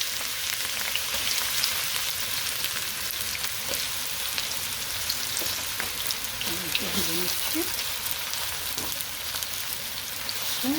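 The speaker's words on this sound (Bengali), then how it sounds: "আমি এখানে প্যানে কিছুটা অয়েল নিয়েছি, এখানে অনিয়ন দিয়ে দিচ্ছি।" Onions fry in hot oil in a pan with a continuous, fairly loud crackling sizzle that resembles rain, and a faint voice surfaces briefly partway through.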